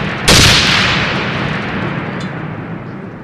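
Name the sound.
grenade with PETN and ball bearings detonating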